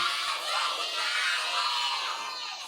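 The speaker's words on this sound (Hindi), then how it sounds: "जोरदार तालियां" Applause from a lively crowd, with children cheering and shouting mixed in, a dense steady wash of clapping and voices held at even loudness throughout.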